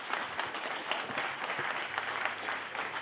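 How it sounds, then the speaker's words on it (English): Indoor audience at an office open event claps steadily, a dense even patter of many hands lasting throughout at moderate loudness with no voices on top. "Can we get one more round of applause for Gwen, please?"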